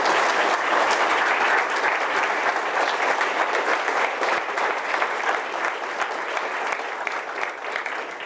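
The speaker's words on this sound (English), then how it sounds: "give them a standing round of applause" A leadership summit audience gives a standing round of applause, dense and loud sustained clapping from a large crowd that continues steadily throughout, with no talking over it.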